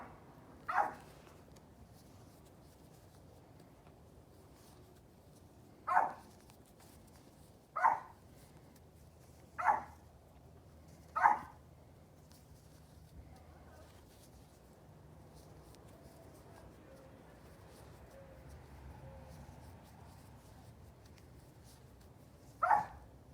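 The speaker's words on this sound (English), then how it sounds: "That dog is so passionate." A dog barks in short, separate bursts, about six sharp barks spaced a few seconds apart over a quiet indoor background.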